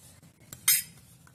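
A spoon mixes rice flour and honey in a bowl for a cracked-heel paste, with a soft scrape and then one bright clink against the bowl in an otherwise quiet moment.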